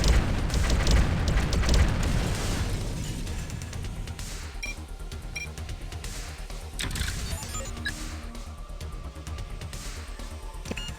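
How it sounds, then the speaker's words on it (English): Vehicle blowing up in the sci-fi strategy game Outpost 2, a heavy low boom at the start that rumbles and decays into a dense, noisy wash of game sound, fairly loud throughout with no talking. "We are under attack. Vehicle destroyed."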